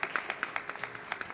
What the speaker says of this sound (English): Please join with me in a round of applause.